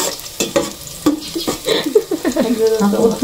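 Garlic sizzles in hot oil in a pan as it is stirred, for a pot of lugaw rice porridge, with scraping strokes and crackling spits close by and a voice faintly in the background.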